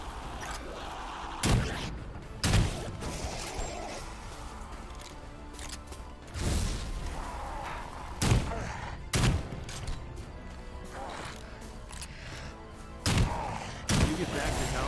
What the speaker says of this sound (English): be very liberal with your shotgun